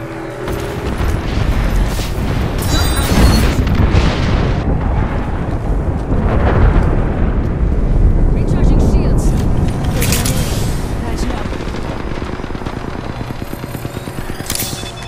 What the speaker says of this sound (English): Calling the airstrike.